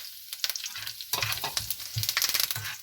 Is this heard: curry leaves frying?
yes